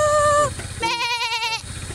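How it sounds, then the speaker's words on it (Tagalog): Goats clinging to a cliffside in Sabtang, Batanes bleat loudly and close by, two wavering calls in quick succession, the second longer and shakier, with outdoor background noise. "Oh, kambing sa bangin."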